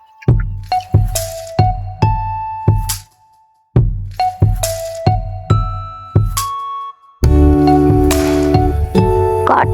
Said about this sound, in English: Got to take all of the water out of this.